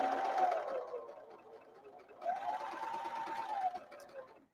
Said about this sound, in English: I love the sound of a serger. It's so great. So smooth and cool. I'm using my Airflow 3000 from Brother.